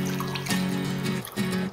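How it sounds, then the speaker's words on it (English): Water is poured into a container while making Korean omija tea, a steady trickling stream with a short break and a brief resumption, close and fairly quiet. "I'm going to add in my water."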